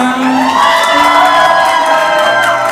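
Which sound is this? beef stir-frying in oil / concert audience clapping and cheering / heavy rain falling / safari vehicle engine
concert audience clapping and cheering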